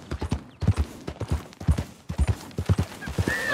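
Horse hooves clip-clop in a steady, brisk rhythm of sharp close strikes on the ground in Red Dead Redemption 2, with a faint whinny-like squeal near the end.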